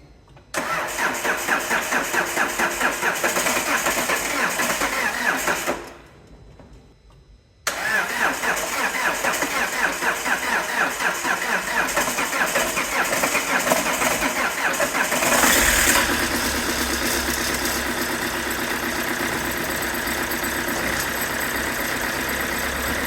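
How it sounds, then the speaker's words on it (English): Car engine with heavily coked-up valves cranking at length, pausing briefly, then cranking again until it catches and settles into a rough, steady idle, close up with no talking. "I'm just going to try and start it, see if it's any better."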